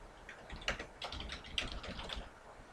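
Computer keyboard typing while naming rig controls for a fish model, heard as quick irregular clusters of close, crisp key clicks with no voice.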